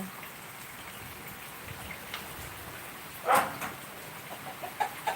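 Steady rain patters throughout, with a faint crowing or bird call briefly rising partway through and soft scattered drips near the end.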